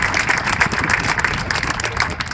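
A crowd at a ceremonial event applauds the organizers, a brief burst of dense, moderately loud clapping that holds steady through the moment.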